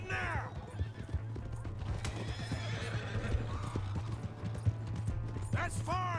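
Galloping horse hooves from the video game Red Dead Redemption 2 clop steadily in a fast rhythm at moderate volume, with whinnies at the start and end and voices over them.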